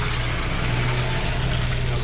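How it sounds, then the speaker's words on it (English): Old Land Rover Defender running close by with a steady, droning, tractor-like engine note and a constant low hum throughout, during a 4x4 off-roading outing in Thetford Forest. "This old Defender coming through, this Defender coming through now is nice, isn't it?"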